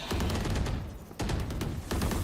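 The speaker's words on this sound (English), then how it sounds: "Placing swarm grenade. Swarm grenade out." In the video game Valorant, a swarm grenade goes off as loud, rapid crackling bursts that fill the clip, dipping briefly midway before flaring again.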